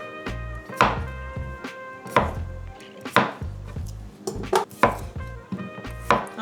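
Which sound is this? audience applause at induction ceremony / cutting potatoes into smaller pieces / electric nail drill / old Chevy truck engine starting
cutting potatoes into smaller pieces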